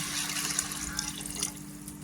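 Quiet, brief splash and trickle of water being poured into a pressure cooker with rice, soft and close, with no voices.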